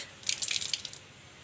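Water trickles and drips from a tap in a garden of white rose plants, a short patter of soft, light splashes that rises and then fades away.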